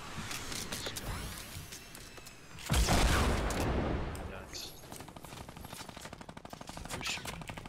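A minigun fires in Fortnite Battle Royale as a rapid, buzzing stream of shots, following a heavy burst of gunfire and continuing in steady rattling pulses against a busy game background.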